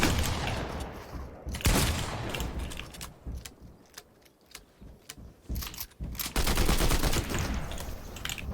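Combat AR rifle fire in a video game: scattered sharp shots and short bursts, some close and loud, others fainter, over a noisy, shifting game soundscape.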